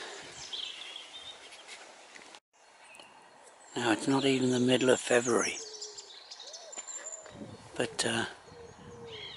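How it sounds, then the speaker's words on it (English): Spring birdsong with varied calls and short phrases rings out along a canal cut through sandstone in Kingswinford, mixed with someone speaking over it and pauses between. "so the birds have already started. Yeah, they've already started the spring song."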